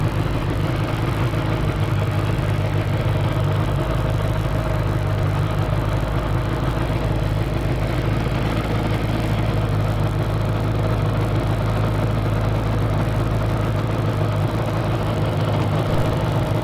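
A motorcycle engine idles close by, a constant low rumble and vibration with no change in pace.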